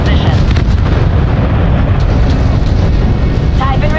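Strikes hit a turret position in the video game Crossfire Legion, producing a loud, continuous rumbling barrage of explosions while a voice speaks briefly over it.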